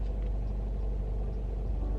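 Steady low rumble inside a moving car, a continuous road and engine drone filling the cabin at even loudness throughout, with no voices.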